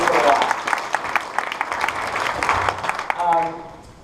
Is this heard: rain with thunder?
no